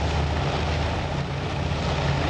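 Propeller aircraft flying together in a large formation with escorts and dive bombers in the Task Force Admiral carrier-combat game, a steady, loud, continuous engine drone with a low rumbling hum and no talk.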